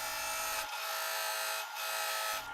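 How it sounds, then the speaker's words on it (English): Power drill turning a Forstner bit into a glued wood bowl blank, a steady loud motor whine with a low grinding bite that drops out and returns in two bursts. "Repeat this process of drilling down into the block in 1/2 inch increments"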